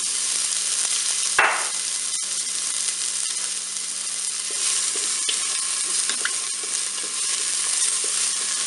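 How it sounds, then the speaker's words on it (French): Asparagus sizzling in hot olive oil in the bowl of a Cookeo multicooker, a sharp splash and crackle as the spears go in, then a steady close frying hiss with small pops throughout. "Ça y est, mon huile est chaude, donc je vais mettre mes asperges."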